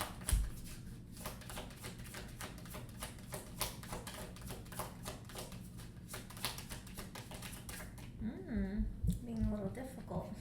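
Tarot cards are shuffled and pulled from a deck at a desk, giving a rapid, continuous run of soft riffling flicks and taps close by, with a voice speaking briefly near the end.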